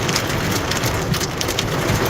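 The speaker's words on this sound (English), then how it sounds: "you can hear the hail as it hit the windshield of that car" Dense, constant pattering of hailstones drumming on a car windshield during a Texas storm, a loud close rattle with no pauses and no voices.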